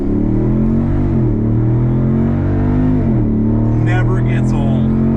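A 2022 one-ton Jeep 392 with a Borla exhaust rumbles and revs on the gas, a loud, steady low engine roar with rising pitch sweeps while a person talks over it.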